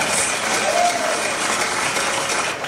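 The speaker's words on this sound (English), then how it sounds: "Oh God, I hate clapping." An audience claps at a live comedy show at Basic City Beer Co. in Richmond, Virginia, with a sustained wash of applause and some voices mixed in, tapering slightly at the end.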